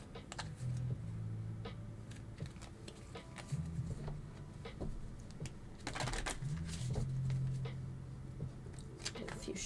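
Tarot cards being shuffled by hand, soft quiet riffling and tapping in scattered bursts, with low hums and a few faint voice-like tones in between.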